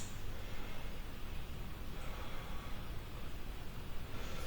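Slow, deep breaths are taken during a yoga side stretch, a steady airy breath noise close to the microphone, continuous and even, with no talking.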